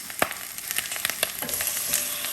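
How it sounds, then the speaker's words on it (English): Pork belly skin searing in a Staub cocotte, a loud close sizzle scattered with sharp pops and crackles that build into a denser hiss. "We're just making the skin, searing it."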